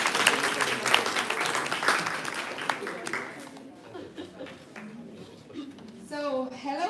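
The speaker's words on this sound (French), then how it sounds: "je vous laisse les applaudir" Applause from a conference audience at a corporate careers talk, a dense burst of clapping that fills the first few seconds and then thins out, before a voice starts speaking over the fading claps.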